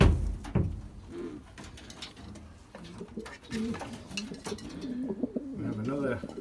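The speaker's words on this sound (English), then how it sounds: "And here we have two young birds from the cock above" Young racing pigeons coo softly in a loft, repeated low rolling calls with wing flutters and scuffles, close by and moderately quiet.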